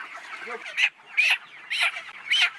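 Chickens at a poultry farm give four loud, close, raspy squawks spaced about half a second apart, with faint clucking between them and no talking.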